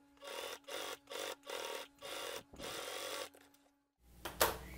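A sewing machine stitches along the edge of a fabric cutlery holder in several short, even bursts of close mechanical whirring separated by brief pauses, then one longer run and a rustle of fabric.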